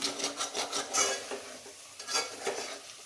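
Repeated scraping strokes of a spoon stirring thick sabudana khichdi in a pot, steady rhythmic swishes close by, with no talking.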